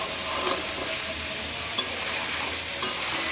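Mutton frying in a pan, a steady broadband sizzle with a few brief stir scrapes or clinks, close and fairly loud, no voices.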